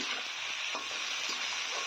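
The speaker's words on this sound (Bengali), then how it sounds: "মেথি শাকটাকে খুব সুন্দর করে নেড়ে ভেজে নেবো নেড়ে চেড়ে ভেজে নিতে হবে" Fenugreek leaves and potatoes with coriander stir-fried in a pan: a continuous close sizzle broken by regular scraping stirs about every half second, no voices.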